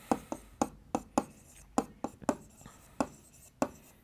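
Pen strokes scratching on paper during a class 6 maths lesson, a series of short, close, distinct taps and scrapes in an irregular rhythm with quiet gaps between them.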